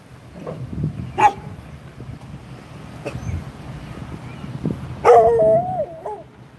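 Dogs at an outdoor tent camp bark in sharp scattered bursts, with a few yips and a whimpering whine near the end, over light wind noise.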